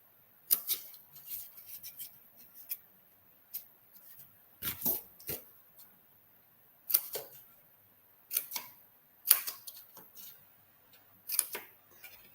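Scissors snip score-lined tabs on a paper craft box: a series of soft, close, crisp cuts and clicks come in irregular clusters against an otherwise quiet background.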